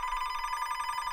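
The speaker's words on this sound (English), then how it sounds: "The phone rang." A telephone rings with a steady electronic trill, heard alone, fairly faint and continuous for a brief moment.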